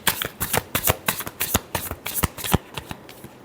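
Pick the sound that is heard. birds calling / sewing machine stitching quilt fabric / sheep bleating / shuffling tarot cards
shuffling tarot cards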